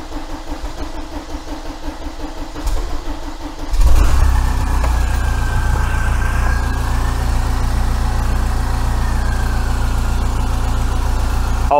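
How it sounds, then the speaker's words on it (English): A VW T3 TDI diesel with no exhaust fitted cranks briefly, then catches and settles into a loud, steady, rough idle that carries on to the end. "That's why the engine's not sounding great, is because the exhaust isn't on it."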